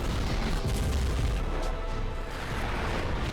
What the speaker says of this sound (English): With a massive explosion,